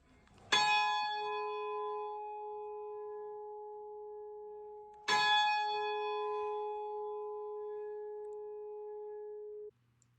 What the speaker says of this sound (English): Up next is me being able to ring the bell in the bell tower.